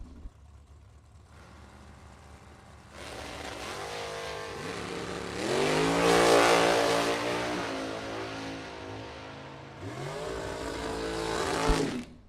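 Drag racing cars rated at 3,000 horsepower launching down the strip at a bracket nationals event, a deep engine roar that swells loudly, fades, then rises again in a second strong burst.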